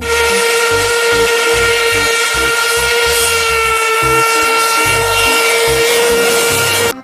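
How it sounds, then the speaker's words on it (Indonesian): A toy train sounds a sustained electronic horn tone, loud and steady, over a rhythmic chugging pattern for about seven seconds, with no talking. "Widih, kereta api."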